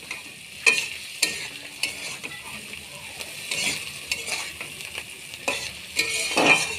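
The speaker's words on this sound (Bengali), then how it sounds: "ভালো করে কষিয়ে গ্যাসের একটু কমিয়ে দিতে হবে।" Raw banana kofta curry masala stir-fried in a pan, with repeated scraping strokes of a spatula over a low, steady sizzle, close and moderate in level, and no one speaking.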